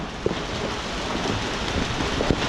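Steady heavy rain hisses and patters close by in the Baseco port area of Manila, a dense wash of noise with a few louder drops.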